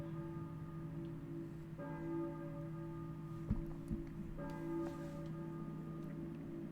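A bell in the video game Silent Hill tolls twice at an even pace, faint and distant, its tones ringing on over a low steady hum, with a couple of soft knocks between strikes.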